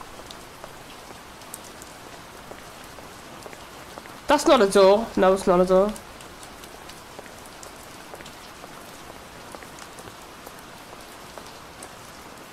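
Steady rain hisses throughout at a moderate level in the indie horror game Hibernation, while a short spoken exchange briefly rises over it in the middle.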